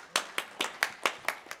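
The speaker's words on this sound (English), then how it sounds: "How come he gets applause?" A few hands clap in a quick, steady rhythm, about seven claps in under two seconds, close and fairly light.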